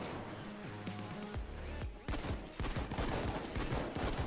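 Rapid bursts of gunfire from the heist shooter Payday 2 crack out in a dense, repeating volley, loud and close, following a steady musical tone at the start.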